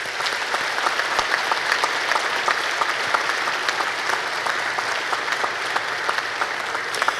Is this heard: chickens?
no